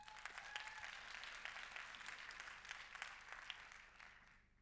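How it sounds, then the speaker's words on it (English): Crowd applause from a startup demo day audience honoring the pitches, a soft, steady wash of many hands clapping that fades out toward the end, with a brief tonal sound near the start. "I think they deserve another round of applause"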